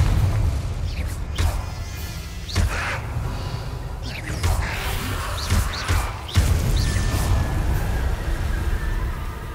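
Confringo explosive spell cast repeatedly in the video game Hogwarts Legacy, with several booming blasts and crashes spread across a busy, continuous battle din.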